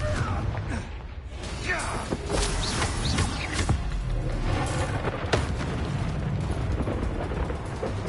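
Spell blasts from a Harry Potter-style wizarding video game, a Confringo explosion spell, rumble as dense booming bursts across the whole stretch, loud and continuous, with a voice talking over the din.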